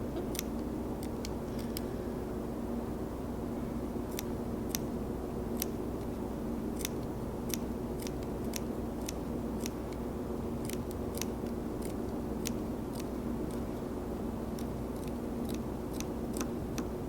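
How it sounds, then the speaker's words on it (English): Scissors snip through fabric while a sock gnome is being made: a long run of sharp, irregular close-up clicks over a low steady background hum, with no talking. "And you just want to snip away."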